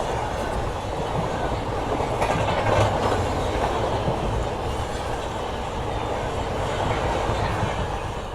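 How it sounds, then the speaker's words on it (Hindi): The Shivganga Express passenger train runs alongside on a parallel track on a dedicated freight corridor before dawn, a loud steady roar of wheels with rhythmic clickety-clack and rail rumble close by. "एक बार फिर से शिवगंगा एक्सप्रेस बिल्कुल पैरेलल में ओवरटेक करने वाली है हमको"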